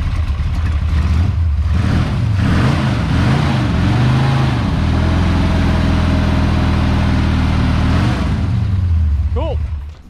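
A blown-up hobby stock race car engine runs loud and close, revving unevenly a few times before settling into a steady, rumbling idle on its own, then cutting off at the end.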